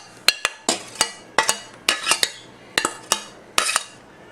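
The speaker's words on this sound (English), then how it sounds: "I'm mixing that through so everything could be well blended." A spoon scrapes and clinks against a metal pan while macaroni is stirred into a roux for baked macaroni and cheese, about a dozen sharp, close knocks in an uneven rhythm with no talking.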